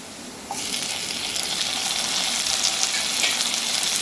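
Chopped onions and tomato fry in a pan for rice flakes upma, a steady close hiss of sizzling oil that starts abruptly and holds strong throughout, with no talking.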